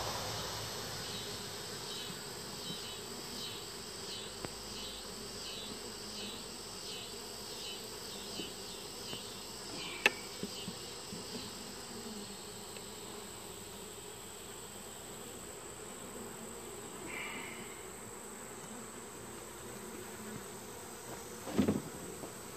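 Honey bees hum around an open, smoked hive during an inspection, a faint continuous buzz under quiet room tone, with a few soft clicks and a brief louder knock near the end.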